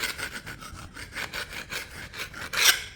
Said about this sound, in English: I'm just using the putty knife to scrape any excess